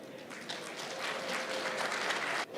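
Audience applause at a British Bangladeshi awards dinner, a dense, continuous wash of clapping that fills the short stretch and cuts off near the end.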